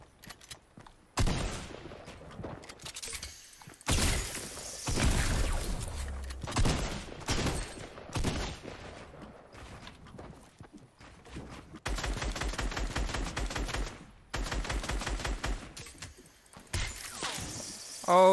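Gunfire in Fortnite with a sniper shooting at the player, heard as irregular loud shots and bursts, including a rapid sustained volley partway through, mixed with game noise and occasional talk.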